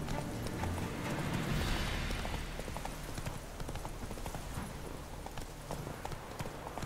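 Horse in The Witcher 3 video game galloping in panic, steady clip-clop hoofbeats with an occasional whinny, fairly close and continuous over game ambience.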